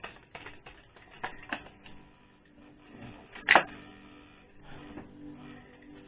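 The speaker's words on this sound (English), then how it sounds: "I'm going to keep shuffling there." Tarot cards are shuffled by hand in a series of soft, irregular clicks and riffles, with one sharper snap of cards near the middle and no speech.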